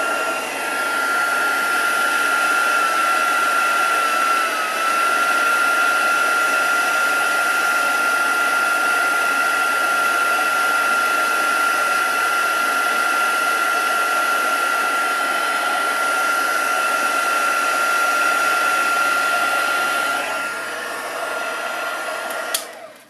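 Handheld heat tool melting embossing powder on a Christmas tag, a loud constant blowing whir held close for the whole stretch and tapering off just before it cuts out, no voices.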